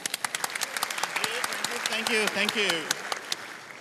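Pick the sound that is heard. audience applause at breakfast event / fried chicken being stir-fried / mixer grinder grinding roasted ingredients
audience applause at breakfast event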